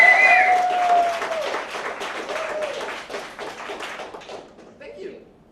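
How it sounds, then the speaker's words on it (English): Audience applause at a science slam, a dense wash of clapping that fades gradually over several seconds, with a faint tone at the start and a quiet voice near the end. "please applause now"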